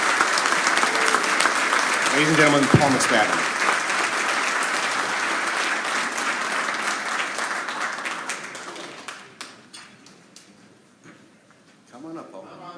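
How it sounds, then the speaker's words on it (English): Sustained audience applause fills a hall for several seconds, with a voice announcing a guest over the clapping before it thins out and fades to scattered claps. "Give him a round of applause."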